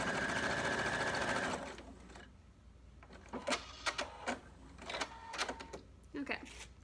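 A sewing machine stitches a t-shirt being turned into a pillow, whirring steadily for about a second and a half before stopping, followed by a person talking.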